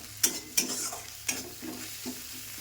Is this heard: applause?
no